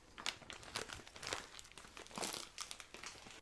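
A plastic bag of pepper jack cheese crinkles and crackles up close in quick, uneven bursts, quiet and steady with no voices.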